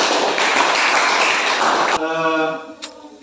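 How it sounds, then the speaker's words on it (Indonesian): Applause for a student group in an Indonesian classroom: dense, steady clapping from many hands for about two seconds, then cutting off as a voice begins speaking. "ya kita berikan aplaus dulu kepada kelompok 2"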